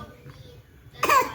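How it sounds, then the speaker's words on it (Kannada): A child gives a short, deliberate cough near the end of the clip, loud and close after a stretch of quiet room noise. "ಕೆಮ್ಮು ಕೊಡ್ತೀನಿ"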